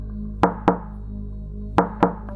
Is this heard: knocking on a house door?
yes